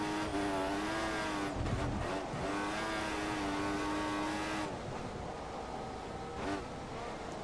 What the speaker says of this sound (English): If you're just spinning the tires 5 seconds behind you. and just revving the engine to death